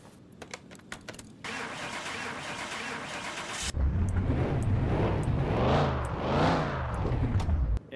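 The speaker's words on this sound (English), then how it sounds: "let's move the car outside and make sure it still starts" An in-game car engine cranks and catches in Car Mechanic Simulator 2021, a broad rough roar that swells and surges for several seconds after clicks and a hiss.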